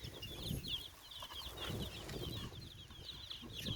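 Soft, busy clucking and peeping from a group of chicks close by, continuous throughout with faint rustling underneath.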